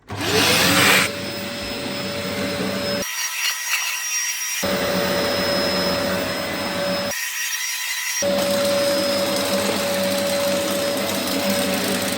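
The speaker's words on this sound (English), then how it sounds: "we're going to vacuum the carpet" A Dyson DC04 vacuum cleaner runs on a blue carpet with a steady high whine and a rough brushing drone, cutting out briefly twice before resuming, close and loud.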